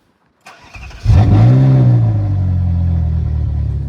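A car engine cranks briefly and catches, started with a key followed by a push button, then settles into a loud, steady idle close by; the car carries an engine management fault linked to its exhaust system.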